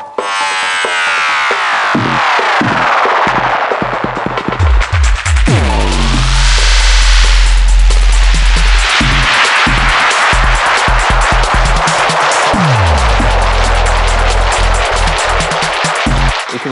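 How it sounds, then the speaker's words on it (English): Pioneer DJM-900nexus DJ mixer spiral effect, like a runaway tape delay: loud, dense music smeared by swirling, pitch-sweeping repeats that rise and dive throughout, with a thick low rumble in the middle and no voices. "So the spiral is like a tape delay that's gone bananas,"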